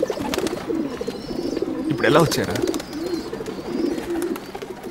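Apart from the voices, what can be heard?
pigeons cooing and fluttering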